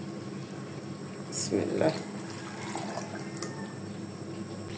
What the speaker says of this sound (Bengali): এই যে চালটা ব্লেন্ড করা হয়ে গেছে, এটা আমি এখন এই দুধের মধ্যে দিয়ে দিব